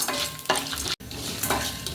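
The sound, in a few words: dried chillies and lentils frying in oil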